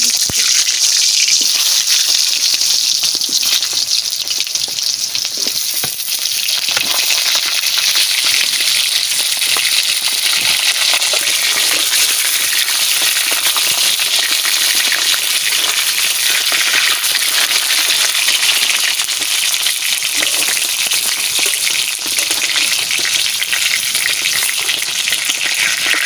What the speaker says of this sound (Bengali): তেল গরম হয়ে গেছে, আমি পটল দিয়ে দিচ্ছি।